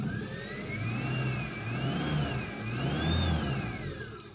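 A 1993 Suzuki Esteem 1.3 car engine runs steadily with a low mid-range hum, and a rising and falling whine sweeps through it as the revs climb and ease, close by with no voices over it.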